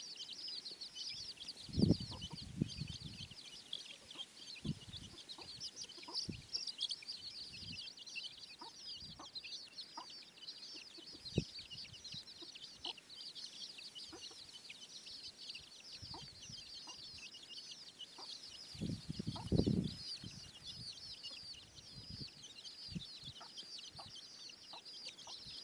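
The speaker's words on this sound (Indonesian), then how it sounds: "dibantu oleh anak-anak ayam" Chicks and chickens cluck softly around a durian tree while pecking at termites, scattered short calls over a steady background of insect buzz, with a couple of louder rustling bursts.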